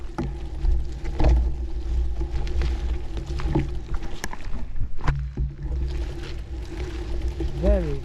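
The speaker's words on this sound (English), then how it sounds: "So there's a boat coming towards me." A boat's engine approaches along a canal, a steady low rumble and hum that holds throughout, with a brief rising whine near the end and wind noise over the mic.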